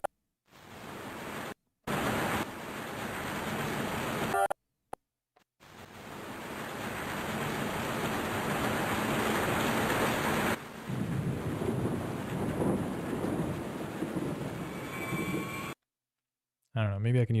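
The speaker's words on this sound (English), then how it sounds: "Okay, so we got this rain sound." A rain sound sample for beat making, steady dense hiss of rainfall with thunder-like rumbles, loud and continuous across several segments broken by brief silent gaps.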